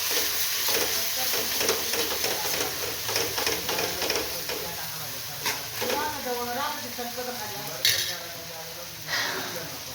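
Matki bhaji with black masala, red chilli and coriander powder sautéing in a kadhai: steady sizzle with repeated scraping stirs and occasional metal clinks, while someone talks over the cooking.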